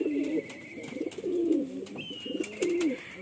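Pigeons coo in a newly set-up loft, a series of close, throaty rolling coos in uneven bursts, with a faint higher whistling tone in the background.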